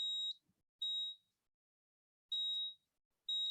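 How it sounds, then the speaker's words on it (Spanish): An indoor CO2 monitor's alarm sounds in a series of high, pure electronic beeps, each about half a second long and separated by irregular silent gaps, clear and close with nothing else audible. "ha comenzado a pitar encima"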